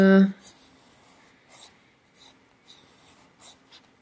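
A single Polychromos colored pencil shades a flower on paper in short, scratchy strokes that come in a loose series of quick bursts, close and crisp, with brief pauses between them.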